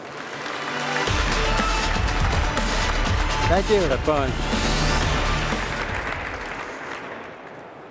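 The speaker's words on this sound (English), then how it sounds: "So please give a warm round of applause to Mr." A warm round of audience applause at a live robotics keynote welcomes the Boston Dynamics founder, swelling loud and steady across the clip and fading near the end, with a brief spoken thanks over it.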